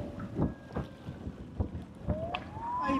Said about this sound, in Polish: Dwa silniki zaburtowe.